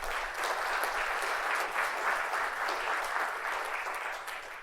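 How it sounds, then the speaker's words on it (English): Audience applause at an executive panel event, a steady, dense clapping that fills the whole stretch at even loudness with no voices over it. "A big round of applause for everyone"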